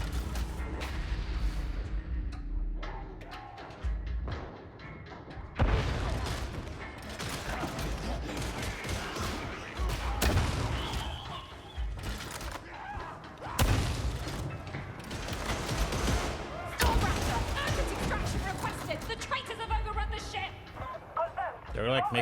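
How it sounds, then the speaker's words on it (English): Heavy blunderbuss gunfire and mechanical clanks in the video game Warhammer 40,000: Darktide play as repeated loud booms and ratcheting reloads among game noise, with people talking throughout. "I got this blunderbuss, this big cannon."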